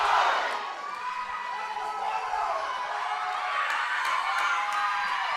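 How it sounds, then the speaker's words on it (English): Large powerlifting crowd roaring and cheering steadily for a record women's deadlift attempt over 300 kilos at a national meet, a dense sustained wall of voices with shouts and whoops rising near the end. "The crowd is fired up."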